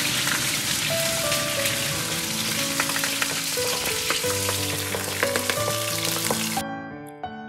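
Scallion segments and pork spine bones stir-fry in a hot wok, giving a loud, continuous crackling sizzle with scraping stirs, while soft instrumental music plays underneath.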